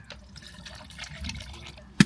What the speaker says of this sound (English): grab your 500ml of water and enter it